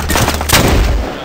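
A single loud gunshot rings out in the first-person shooter Medal of Honor Warfighter during campaign play, a sharp close blast followed by a short rumbling tail.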